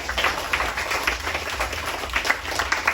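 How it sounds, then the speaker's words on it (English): An audience at a staged reading of Plato's Symposium at a club applauds the director, a dense, steady patter of many hands clapping that carries on evenly throughout. "And a big applause for our director, Nick Perry, sitting on the back."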